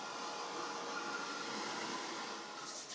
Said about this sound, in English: it dries very quickly with the heat gun